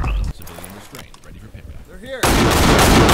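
Gunfire in a police tactical shooter game, shots bursting loudly at the very start and then a dense sustained volley of rapid fire filling the final second, with people talking in between.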